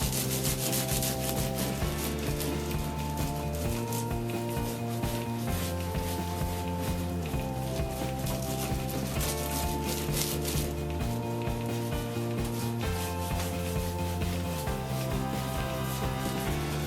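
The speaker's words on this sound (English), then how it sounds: "Just have a light rubbing action right now. I'll put more pressure on it here" Hands rubbing silk laid over wool fibres during nuno felting, a steady soft friction running continuously over a loud musical background that largely masks it.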